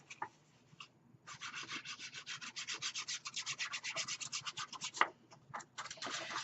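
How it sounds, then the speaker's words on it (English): Close, rhythmic rubbing strokes of a tool burnishing a paper embellishment onto a mini album page, a quick run of scratchy passes after a brief pause, with a faint tap near the end. "And burnish it in."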